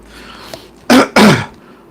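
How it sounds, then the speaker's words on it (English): Two loud coughs close together from someone talking into a microphone, each a sharp burst followed by a short rasp, heard close up against a quiet background. "sorry for my cough"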